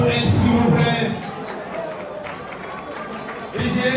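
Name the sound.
audience applauding a performer at an awards show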